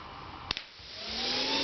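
A DC electric motor, a replacement unit with brushes being seated, clicks twice and then whines up steadily, its pitch climbing and its loudness building as it spins faster.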